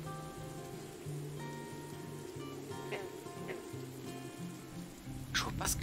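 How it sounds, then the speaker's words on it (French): Steady rain patters on a surface beneath a soft repeating musical tone in the video game Morels: The Hunt, with a few brief sharper sounds near the end. "il pleut, il fait gris."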